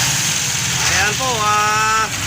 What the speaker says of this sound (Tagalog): umandar na po yung sinervisan nating makina